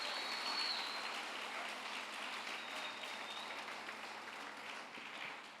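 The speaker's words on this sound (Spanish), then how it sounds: "denle un aplauso al Señor bien fuerte" A church congregation applauding together during a worship service, a broad steady wash of clapping that holds for several seconds and slowly fades toward the end, with no talk over it.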